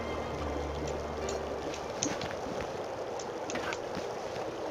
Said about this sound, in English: Alright, looks like it's getting windy.